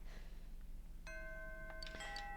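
A doorbell in the Persona video game rings twice as a soft, clear ding-dong chime, faint over a low steady hum.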